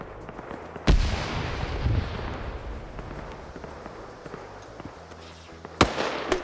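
Grenade blasts in a video game battle: two sharp, loud explosions a few seconds apart over a rumbling, crackling combat backdrop.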